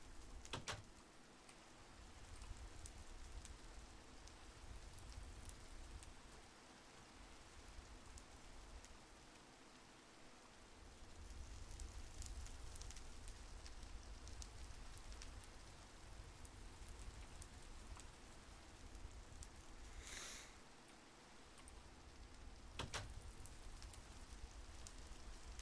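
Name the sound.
rain falling in the video game Minecraft (SevTech modpack)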